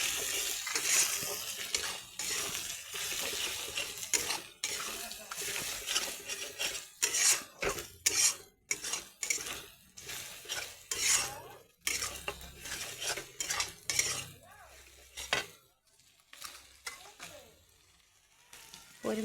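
A utensil scrapes and clatters against a pan while ground coriander, cumin and chili powder are mixed in, giving irregular metallic scrapes and knocks with a faint sizzle; a voice talks at times.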